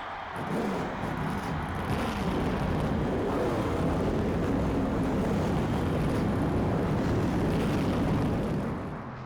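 Stock car engines in the NASCAR Thunder 2004 racing game roar to life together at a New York track, a dense, loud, continuous rumble that holds steady for several seconds without talk.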